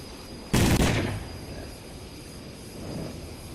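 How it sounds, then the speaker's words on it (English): A brief machine gun burst in the Neo Warfare video game, a single loud, dense rattle lasting about half a second that trails off into a quiet engine-like hum. "Just fire your machine gun for a tiny moment, and then you'll know."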